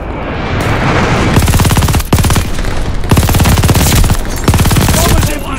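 Sustained, rapid machine-gun bursts from an MG42 in a World War II shooter game, loud and close, firing in long buzzing strings broken by brief pauses.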